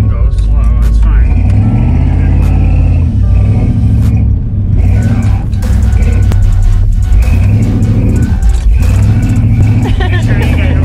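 A car engine revving while driving slowly on a two-track, a loud rumbling engine that rises and falls in bursts up close, with people talking over it.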